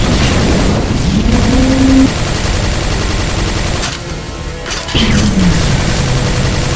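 Hyperblaster weapon fire in Quake 4, loud rapid bursts of gunfire with whining tonal sweeps, pausing briefly in the middle before another burst resumes.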